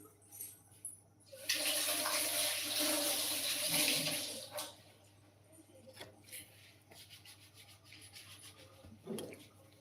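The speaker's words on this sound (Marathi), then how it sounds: "मी हात धुवून आली" Water running from a tap while hands are washed at a sink, a steady hissing gush for a few seconds that then stops, followed by faint rubbing and clatter; quiet speech is present.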